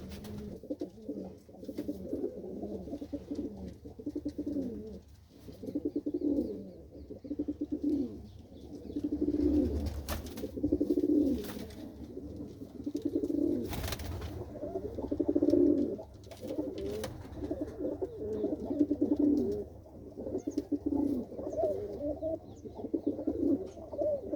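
Kept loft pigeons from racing pairs give repeated soft throaty coos, one bout after another in a steady rhythm, near and unaccompanied by speech.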